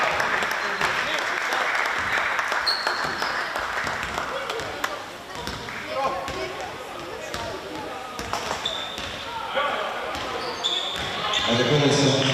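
Steady applause from a large crowd at a youth basketball event fills the space, with a voice over a loudspeaker and scattered squeaks and thumps from a court.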